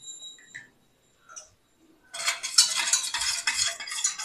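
Gourd papad batter with chilli flakes being stirred: after a few faint high beeps, a dense wet scraping and swishing starts and continues steadily, close and fairly loud with no voices.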